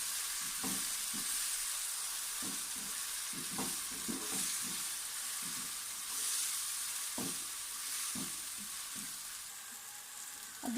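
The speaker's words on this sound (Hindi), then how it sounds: "अदरक, सब्ज़ मिर्च और टमाटर डालने के बाद हमने इसको 5 मिनट के लिए भून लिया।" Chopped tomatoes, green chilies and ginger sauté in a pan for a chicken curry, producing a continuous sizzle broken by repeated scraping knocks of a spoon stirring the mix.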